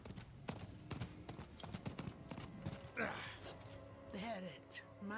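Horse hooves clip-clop in Diablo IV, a steady run of soft beats over the first few seconds, then fading under game effects and a tonal chime, while a person talks over the top throughout.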